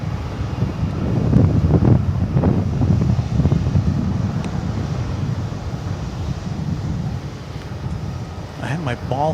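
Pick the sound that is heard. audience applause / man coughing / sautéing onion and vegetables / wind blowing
wind blowing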